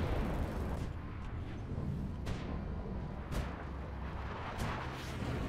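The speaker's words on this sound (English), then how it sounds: "Is this just random artillery?" Random artillery fire in the tank game War Thunder: several distant heavy booms land at irregular intervals over a constant low rumble of engine and battle noise.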